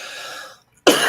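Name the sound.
cough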